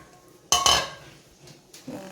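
A clay pot of Kerala-style fish curry with fish roe and fish head being stirred, giving two close clattering scrapes of a spoon against the pot and a softer knock near the end.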